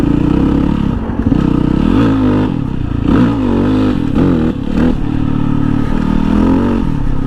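A dual-sport motorcycle, a do-it-all model in production for twenty years, rides across wide open terrain, its engine droning loud and steady close to the rider, rising and falling with changes in throttle, with some clatter mixed in.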